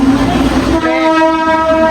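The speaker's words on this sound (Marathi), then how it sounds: "ही ट्रेन चालली" A train passes close by in the rain, loud and continuous, with a rumbling roll and a sustained horn blast over it.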